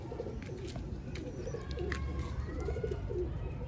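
Domestic pigeons cooing in a loft, soft low repeated coos under a steady background murmur.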